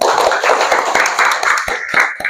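Children clap hands together in a classroom, a loud burst of quick claps that thins out into a few separate sharp claps near the end.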